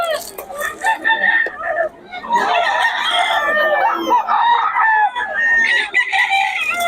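A double-banded gamecock crows loudly and close, several full crows in a row with some clucking between, while someone talks in the background.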